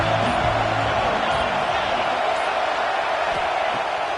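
A football stadium crowd at a Nebraska–Alabama game makes a steady, loud roar. The broad wash of noise holds for the whole stretch with faint whoops and cheers inside it, and no clear speech stands out.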